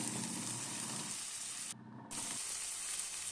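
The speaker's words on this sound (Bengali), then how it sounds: "এবারে তেল ছাড়া অবধি আমি মশলাটাকে কষাতে থাকবো।" A spice paste for a Bengali fish curry sizzles steadily in hot oil in a pan as it is sautéed until the oil separates, a dense continuous hiss that dips briefly before resuming.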